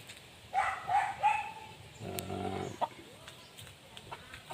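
A few chickens clucking and squawking close by in short bursts, with a harsher call in the middle and quiet farmyard background.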